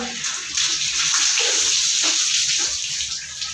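Water splashes and gushes steadily, a continuous bright rushing pour close by that holds for a few seconds with slight surges.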